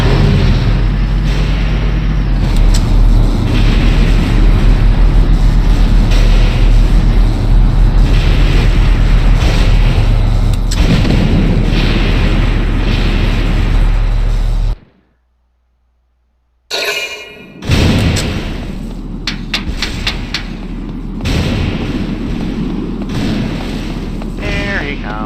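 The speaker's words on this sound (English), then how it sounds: "Yes, you can dodge mortars." Mortar explosions in the video game Valkyria Chronicles make loud, dense booming blasts over a busy battle soundscape, with a brief total dropout to silence before the rumbling resumes and a voice talks intermittently.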